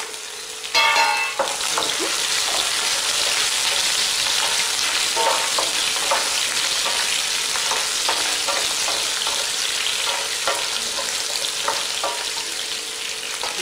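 Cut okra and green chillies fry in hot oil for an okra fry, a steady close sizzle with a brief louder crackle near the start and scattered light stirring taps throughout.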